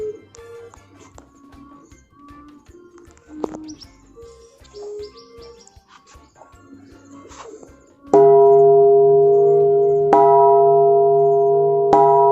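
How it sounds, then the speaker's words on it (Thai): A temple bell at Doi Kong Mu temple in Mae Hong Son is struck once loudly, ringing with a sustained metallic tone, then struck again; birds chirp beforehand in the quiet outdoor setting. "ตีระฆังเพื่อเป็นสิริมงคลนะครับ"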